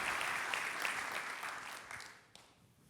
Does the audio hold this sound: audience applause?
yes